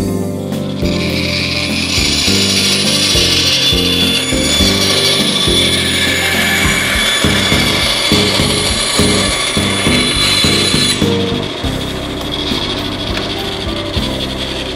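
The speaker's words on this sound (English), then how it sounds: "we'll cut these out of 1/4 inch plywood. And so we'll do this on the bandsaw." A bandsaw cuts triangles out of 1/4 inch plywood in a shop, a loud continuous motor whine with rhythmic rasping cutting strokes running throughout.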